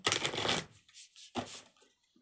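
Tarot cards riffle-shuffled close up in two brisk bursts, a long dense flutter followed by a shorter one, with brief quiet gaps and no talking.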